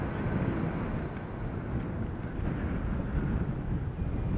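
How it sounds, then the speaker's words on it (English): Wind gusts buffet the microphone at Amsterdam Schiphol Airport, a steady, loud, low rumble filling the whole stretch with no voices. "I think wind is picking up a little."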